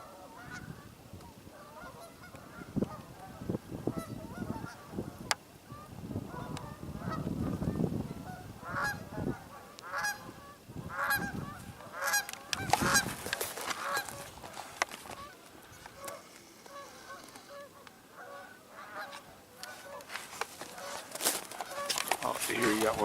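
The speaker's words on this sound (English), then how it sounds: "A lot of geese at this little pool." A flock of geese gathered at a small pool honk and cackle continuously, some calls close and loud, others farther off, while a person talks quietly now and then beneath the birds.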